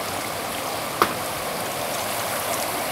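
Water flows and splashes steadily in a small outdoor children's water park at a Turkish resort, an even wash of running water with one brief sharper splash, no voices.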